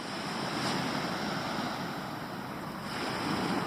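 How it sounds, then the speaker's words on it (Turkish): Continuous roar of sea waves washing onto the shore, broad and loud, with wind buffeting the microphone and swells rising and falling. "Sahil deniz güzel."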